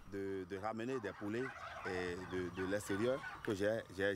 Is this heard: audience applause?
no